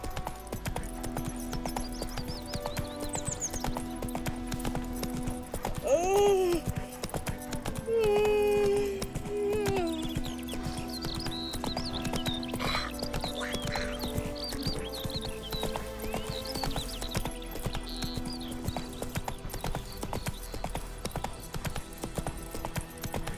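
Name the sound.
horse clip-clop in The Witcher 3 video game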